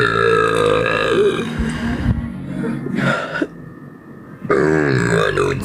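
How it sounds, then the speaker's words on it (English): A string of loud, close, rapid burps in quick bursts with short gaps between them, throaty and voiced. "say the rapid burps where you like do it like in, out, in, out, in, out."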